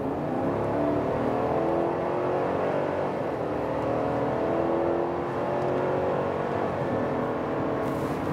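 A 2021 Cadillac Escalade climbing a slightly banked ramp, heard from inside as a steady smooth engine hum with road and tyre noise, constant and moderately loud throughout.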